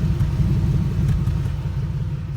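Exhaust of an LS-swapped Jeep Wrangler idling, a steady deep low rumble that stays loud and even throughout, close to the tailpipe with no voices.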